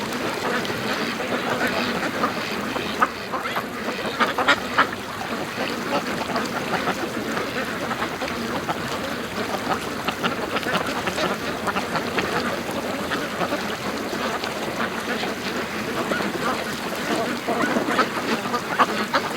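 Ducks stuck in an ice-blocked creek mouth quack in a steady, busy chorus at moderate distance, continuous across the whole stretch with wind-like background noise.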